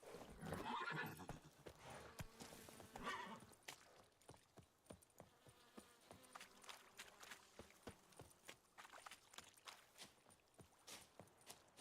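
Horse in The Witcher 3 video game, a loud whinny at the start followed by steady rhythmic hoof clip-clops as the horse moves off at a trot, with no talking.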